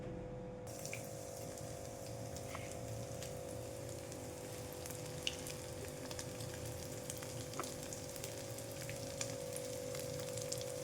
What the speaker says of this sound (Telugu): ఇప్పుడు ఆయిల్ పెట్టుకొని డీప్ ఫ్రై చేస్తానండి.